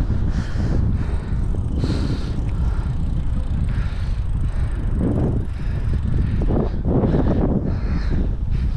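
Strong wind buffets the microphone in a Grand Canyon parking lot, a loud, continuous low roar with gusting surges and no talking.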